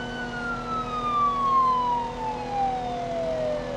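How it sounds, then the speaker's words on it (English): A police siren in a video game wails faintly from a distance as a single slowly falling tone over a steady engine-like hum. "You hear that siren in the distance?"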